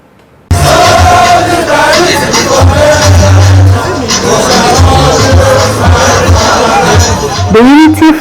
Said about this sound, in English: The Unity Fountain, a popular protest spot in the capital city, is playing host to a huge crowd